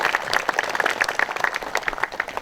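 Applause from the audience at a May 18 memorial ceremony, dense continuous clapping from many people at moderate distance, even and unbroken throughout.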